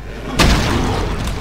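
A single heavy gunshot booms in the shooter game Brutal Doom Eternal running on GZDoom, with a loud low-heavy blast that rings and decays.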